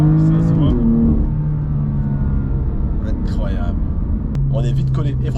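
Someone's sports car on a mountain road, its engine note holding steady and close, with a brief rise in revs, under continuous talk from people inside.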